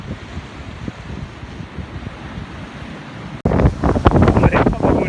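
Strong wind buffets the microphone on a small fishing boat in rough sea off North Wales, a steady low roar that grows louder and harsher partway through, with gusty bursts.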